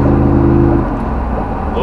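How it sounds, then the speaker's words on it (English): Car traffic crossing a bridge, a loud, close, continuous engine and road rumble with one vehicle's drone fading out partway through. "all the traffic has to go on this bridge"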